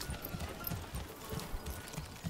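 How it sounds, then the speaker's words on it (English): Horse hooves clip-clopping in the medieval city-builder game Manor Lords, a quiet, regular walking rhythm of soft thuds over faint ambient game sound. "There goes the horse."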